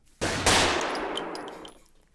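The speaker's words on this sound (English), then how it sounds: "Gunshots." Two loud gunshots in quick succession, close and booming, their echo decaying over about a second with faint metallic clinks after.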